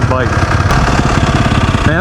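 A gas dirt bike with a stock exhaust idles nearby, giving a steady, fairly quiet pulsing engine sound that runs through the whole moment.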